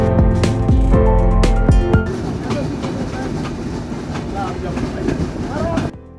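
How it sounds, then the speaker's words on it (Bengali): Bonolota Express passenger train running through Sirajganj after crossing the Jamuna Bridge, a steady loud rumble with rhythmic rail clatter throughout, heavier thumping at the start, with faint voices underneath. "সিরাজগঞ্জের উপর দিয়ে চলছে আমাদের ট্রেন"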